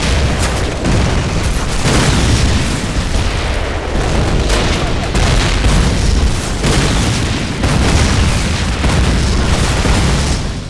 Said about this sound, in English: he blew up the water tower because he was an angry tank